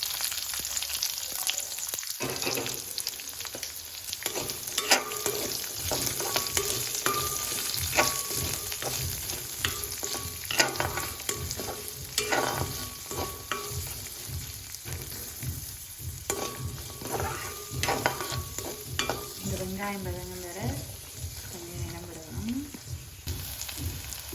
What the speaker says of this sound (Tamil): வெங்காயமும் நல்லா வதங்கி கொண்டு வருது